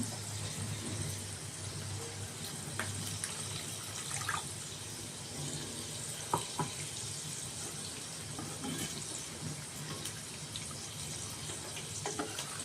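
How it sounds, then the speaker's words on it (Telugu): Water pours steadily into a cooking pan that holds paneer and tomato with separated oil. The flow runs as a continuous close wash, with faint clinks over it and no talking. "దీంట్లో కొన్ని నీళ్లు పోస్తున్నాను"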